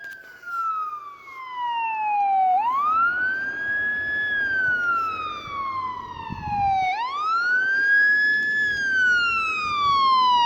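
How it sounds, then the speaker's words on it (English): Emergency sirens wail continuously, their pitch sweeping repeatedly up and down as the vehicles approach a roadside car fire, loud and steady with low traffic rumble beneath. "I hear sirens, so they should be coming here soon."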